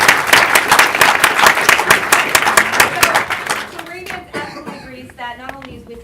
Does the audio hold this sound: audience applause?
yes